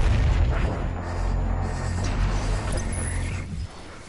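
BFG 10,000 superweapon firing in the video game Doom Eternal: a deep, sustained rumbling boom filling the low end for about three and a half seconds, then dropping off abruptly into a quieter tail.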